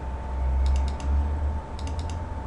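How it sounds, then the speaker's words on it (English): Computer mouse double-clicking on a wire in a LabVIEW program, two quick paired clicks heard twice, faint and close against a steady low hum, with no talking. "If I do double click"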